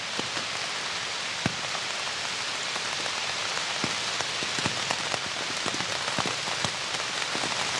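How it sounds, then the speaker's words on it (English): Steady rain hisses down through woodland leaves, with scattered heavier drops pattering and tapping close by on a taut tent overhead. "The raindrops come down through the leaves first before hitting the tent."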